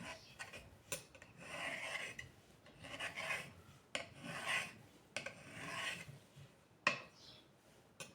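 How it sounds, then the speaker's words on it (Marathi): Rolled wheat-flour and boiled-potato dough being cut and trimmed on a board, giving soft, faint scraping and rasping strokes at an uneven rhythm with a few light taps. No one speaks. "लाटून आता ह्याला असं नुसतं कट करून घ्यायचं."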